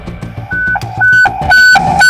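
A sequence of electronic fire station alert beeps, tones stepping in a rising pattern, loud and repeated at a steady rhythm over a low hum.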